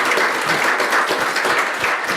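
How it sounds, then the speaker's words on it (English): An audience applauds a finished panel discussion, a dense, even wash of clapping from many hands that holds steady and loud for the whole couple of seconds. "A round of applause."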